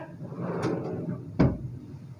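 A drawer in a hotel room slides open or shut with a soft rumble, ending in a single sharp knock as it stops, close by and with nobody talking.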